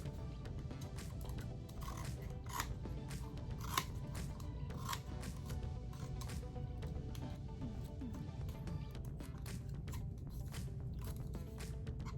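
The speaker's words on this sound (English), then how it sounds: "Cut off the excess material." Scissors snip steadily through excess material on a homemade baby-diaper motorcycle craft, giving a long run of quiet, repeated cutting clicks and rustles with no talking.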